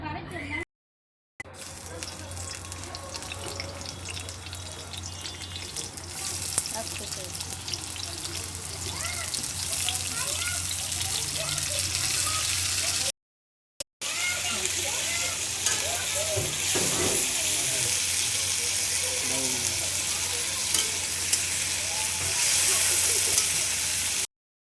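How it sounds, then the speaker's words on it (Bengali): Potato pieces fry in oil in a wok on a gas stove for chicken dum biryani, giving a continuous loud sizzle with bubbly crackle and occasional stirring. Two brief silent gaps break the sizzle, and a voice talks faintly underneath. "আলুগুলো ভেজে নেব।"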